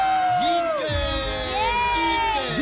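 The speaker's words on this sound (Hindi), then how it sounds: "जोरदार तालियां माखन मित्र मंडल के लिए।" A crowd cheers and shouts loudly for the winners of a competition, with excited high-pitched whoops from children rising over a continuous roar of voices.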